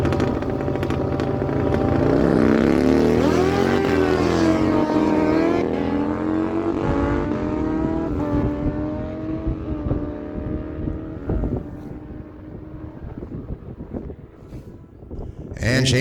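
A 1999 Kawasaki ZX9R motorcycle launches down the strip in a drag race at Miramichi Dragway, its engine roaring and climbing through gears before fading into the distance, with a track announcer talking over it.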